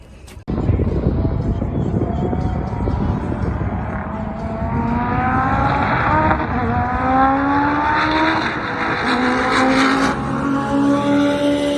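Race cars accelerate hard in a roll race at a track, several engines revving up through rising gear sweeps over continuous loud roar, with voices talking underneath.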